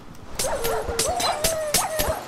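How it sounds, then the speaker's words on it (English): Dogs in the Minecraft video game, a quick series of sharp yips and barks mixed with thin whimpering cries, repeated in a steady, evenly spaced pattern over a couple of seconds. "let's kill all these dogs first."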